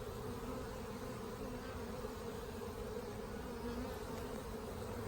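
Honeybees buzz steadily around a nucleus hive frame, a dense, continuous hum that stays close and even throughout with no talking.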